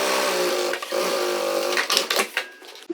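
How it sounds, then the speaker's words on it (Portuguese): A sewing machine runs steadily, stitching a new seam along a zipper on a small fabric cosmetic bag, its rapid motor whir close and loud for most of the stretch before breaking into short stop-start bursts near the end. "Onde está o nosso zíper, vou passar uma nova costura"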